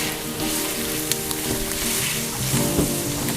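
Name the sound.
onions and celery frying and being stirred in pan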